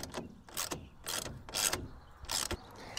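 Bolts being retightened on the header of a Truxedo Deuce tonneau cover on a Ford F150 pickup: five bursts of ratchet clicking in an even rhythm, close and clear, with short pauses between strokes.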